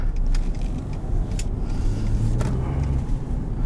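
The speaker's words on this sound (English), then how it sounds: "Turning onto our back road in sport mode." A 2018 Ford F150 Sport EcoBoost pickup truck in sport mode, turning onto a back road, gives a steady low engine drone with road rumble, heard close from inside the cab with no talking.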